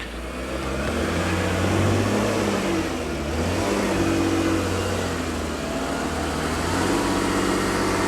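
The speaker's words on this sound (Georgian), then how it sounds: "დააკვირდით ახლა ძრავის ხმას." A 4x4 car in low-range gear with four-wheel drive engaged strains up a steep climb, its engine droning loud and close with a labored, rising hum and no talk.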